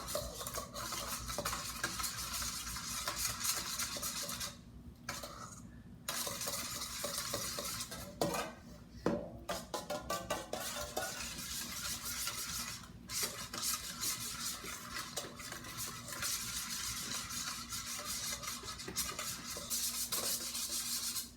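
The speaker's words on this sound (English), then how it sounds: "Now you're going to take your spoon and you're going to mix it all up." A spoon mixes a yeast and sugar mixture for homemade pizza dough, producing a continuous scraping, swishing rub against the bowl with brief pauses and occasional clinks, close and fairly loud.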